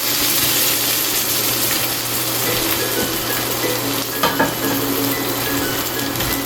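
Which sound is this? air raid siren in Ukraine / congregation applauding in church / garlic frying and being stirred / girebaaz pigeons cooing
garlic frying and being stirred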